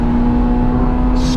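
Honda S2000 engine revving high while driving a manual car, a loud, steady, sustained engine drone close up with no talk over it.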